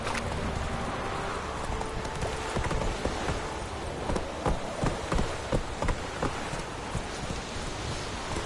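Hooves of the horse Roach gallop in The Witcher video game, a run of rhythmic clip-clop beats over steady rain-like ambience that grows more distinct in the second half, moderately loud, with no speech.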